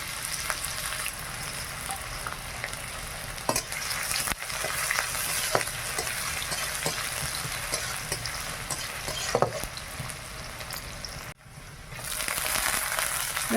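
Onion and two bay leaves drop into caramelising sugar in a village kitchen pan, giving a loud, continuous sizzle and frying hiss with occasional stirring scrapes, close up and without talk.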